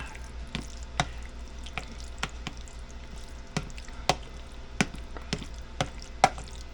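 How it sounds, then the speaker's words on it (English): Sloppy joe tater tots are stirred in a pan, giving sharp, scattered clicks and scrapes of a utensil about every half second over a faint sizzling hum, fairly quiet and with no talking. "just gonna stir those up in there"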